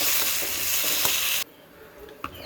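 Tomatoes sautéing in a dry fish (anchovy) thokku mixture crackle with a steady close sizzle and stirring, which cuts off abruptly halfway, leaving quiet room tone and a single clink.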